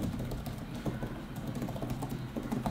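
Quick, soft tapping of keys on an iPad Pro Magic Keyboard, a steady close-up patter of muted clicks with no voices.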